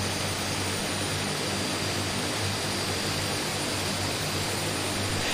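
A constant, loud Twin Otter airplane engine drone in Microsoft Flight Simulator 2020, with a low rumble and high whine, unchanging throughout, no voices.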